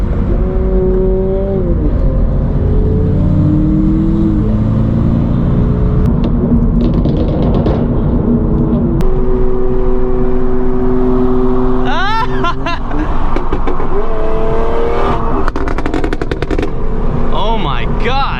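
Engines and road roar from a 2022 Subaru BRZ and other cars, among them a Supra and an S2000, cruising together onto a highway at night, a steady loud rumble with rising and falling engine notes and bursts of revving.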